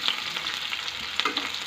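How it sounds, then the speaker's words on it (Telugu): Onion, green chilies and spices fry in a pan, a steady close sizzle with light crackles and stirring scrapes, no voices. "ఉల్లిపాయ, పచ్చిమిర్చి, కారం దినుసులు వేసి కొంచెం ఫ్రై చేసుకోవాలి."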